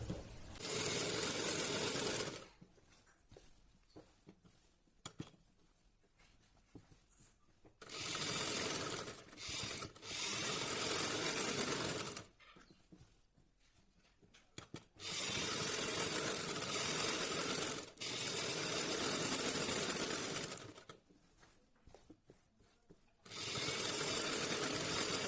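A sewing machine stitches pleats on a salwar in several steady bursts of fast whirring, each lasting a few seconds and separated by pauses, close and fairly loud against a quiet room.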